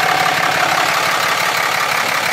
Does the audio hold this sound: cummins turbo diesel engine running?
yes